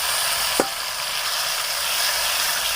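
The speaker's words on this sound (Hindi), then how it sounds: "प्याज को हम फ्राई करते हैं 2 से 3 मिनट के लिए, गोल्डन ब्राउन होने तक।" Onions and chopped tomato frying in a pan for an aloo wadiyan recipe, giving a steady close sizzle with one brief clink of a utensil early on.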